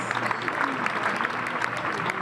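Brief crowd applause honoring three people at the outdoor unveiling of a sculpture, a short, even patter of many hands with faint voices beneath.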